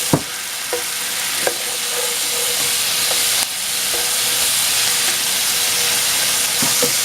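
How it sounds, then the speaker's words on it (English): Black pepper chicken sautéing in a hot pan, a loud continuous hiss and sizzle with a few sharp utensil clicks and a brief bump partway through. "We're just going to saute this for about a minute"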